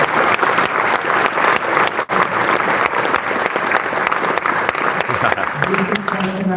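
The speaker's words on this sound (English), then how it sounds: "let's give ourselves and everybody a big round of applause." An expo audience at a flight simulation show applauds loudly with dense, sustained clapping from a large crowd. It runs evenly throughout, with a brief dip partway and voices emerging near the end.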